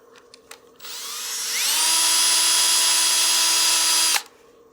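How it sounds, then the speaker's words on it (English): A drill-mounted sanding disc runs against a turned wooden cake stand spinning on a lathe, a whine that ramps up in pitch, holds loud and steady for a few seconds, then stops sharply after a few light knocks. "I have my disc also going counterclockwise, that way it won't speed up my drill."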